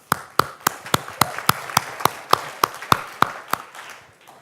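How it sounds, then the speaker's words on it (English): A room of people claps for a presentation at a wearable technology demo, sharp hand-clap transients spaced out about three times a second, fairly close and clear, thinning toward the end. "I'd like just for everyone to join me in a large round of applause"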